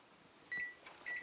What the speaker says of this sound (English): The buzzer is going off.